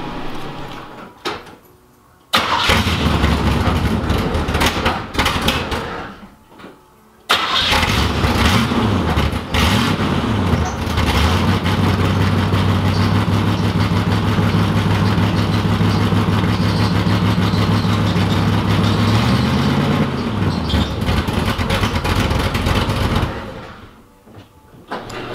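Neglected Chevrolet IROC-Z engine cranking and catching, then idling loud and close for about twenty seconds with a rough rumble and whining accessory tone, a brief stumble partway through, before shutting off into quiet.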